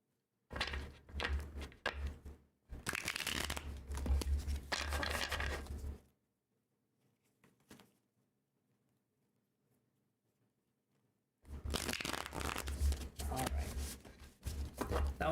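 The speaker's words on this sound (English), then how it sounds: "one more shuffle here with these cards" Tarot cards shuffled by hand in bursts of dense riffling and slapping, two long runs split by a quiet pause, close and fairly loud with no talk.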